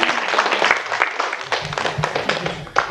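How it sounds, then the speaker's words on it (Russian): A short burst of clapping, fairly close and dense, several hands applauding steadily for a few seconds, from a studio audience at a 1996 Russian TV video game tournament. "Бурные продолжительные аплодисменты"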